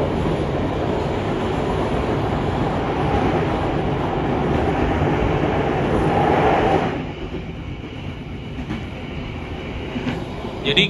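Passenger train rolling across the new Serayu railway bridge in Indonesia, heard from on board as a loud, steady rumble and clatter that eases to a softer run partway through.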